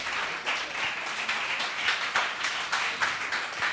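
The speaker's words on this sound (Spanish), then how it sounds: "¿Alguien puede aplaudir al Señor?" Steady church congregation clapping fills the whole stretch, a dense even patter of many hands with no voices.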